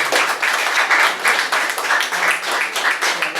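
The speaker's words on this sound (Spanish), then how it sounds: "Un aplauso para el doctor Domingo Nevado Zambrano" Rhythmic clapping from an audience at a ceremony honouring an educator in Ecuador, loud and close with a pulsing, unified beat over a short stretch.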